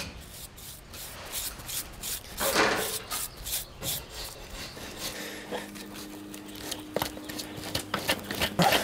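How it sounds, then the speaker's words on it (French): A farrier trims the sole of a horse's hoof, making repeated close scraping and rasping strokes against the horn, uneven in rhythm and moderately loud, with no voices. "J'enlève la sole, que la sole qui a besoin d'être enlevée."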